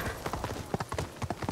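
Rapid, even clip-clop of horse hooves trotting on a hard surface in the video game Ghost of Tsushima, close and distinct, brief and rhythmic.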